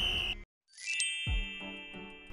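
A bright notification bell dings and rings out with a shimmering jingle, sounding alone after a brief pause, clear and close.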